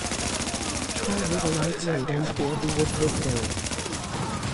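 Continuous rapid gunfire in a shooter video game, a fast machine-gun rattle running throughout at close range while someone talks over it.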